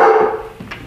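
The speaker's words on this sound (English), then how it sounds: "Dogs. Dogs are here." A dog gives one loud, close bark with a brief whimpering tail in an outdoor deer-hunting setting, followed by a couple of faint yips.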